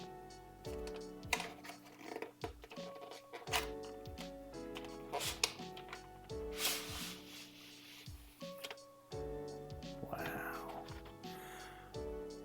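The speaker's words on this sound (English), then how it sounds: "it's customary to just not speak and just to let the unwrapping happen" Crinkly rubbing and rustling of packaging as a renewed reMarkable 2 tablet is unwrapped indoors, with scattered taps and soft crackles in irregular bursts, close and fairly quiet, with no talking.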